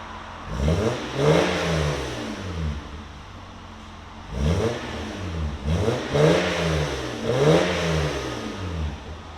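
A 1996 Toyota Land Cruiser 4.5L inline-six with high-flow cats and a Borla Pro XS exhaust revs hard several times, rising to a loud, high-pitched roar with each blip before dropping back; close and steady between bursts.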